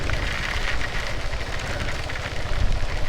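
Steady rain on a monsoon ride near Usgoan waterfall, a dense continuous hiss with low rumble underneath, close and fairly loud, no voices.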